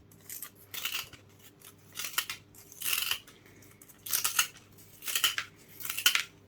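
Scissors snip through material while orchids are being repotted, six or seven crisp close cuts coming in a steady, uneven rhythm with quiet pauses between them.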